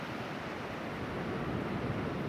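Faint, steady wash of ocean surf on an empty Scottish beach in January, a continuous soft roar with light wind noise and no distinct breaking crashes.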